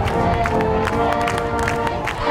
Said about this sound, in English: Crowd thoroughly enjoyed that here at Carroll Stadium as they erupted on the side of their cornerback coming up with the big interception